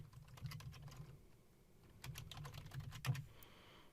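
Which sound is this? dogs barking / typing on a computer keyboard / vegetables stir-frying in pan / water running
typing on a computer keyboard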